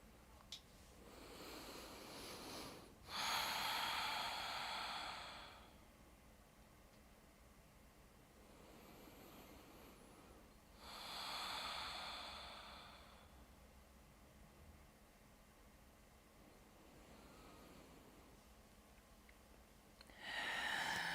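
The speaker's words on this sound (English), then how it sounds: "Listen to the sounds of your breathing and where that breath is moving around your body." Calm breathing during a Pilates relaxation session: slow, soft breaths with airy exhales swelling and fading at intervals of several seconds, faint and close over a quiet background hiss.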